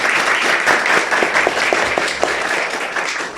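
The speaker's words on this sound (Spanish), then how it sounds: "Recibamos con un fuerte aplauso al señor Carlos" An audience bursts into applause at a tribute event honoring the creator of an anthem, steady clapping from many hands, close and fairly loud for a few seconds.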